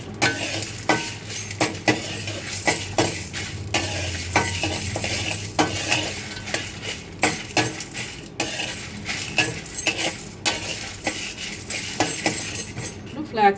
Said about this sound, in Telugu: ఫ్లాక్స్ సీడ్స్ వేసుకున్నాను